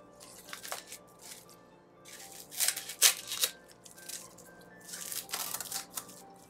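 Dried seaweed being cut into smaller pieces with scissors, giving soft, crisp snips and crinkles in irregular bursts, close and fairly quiet.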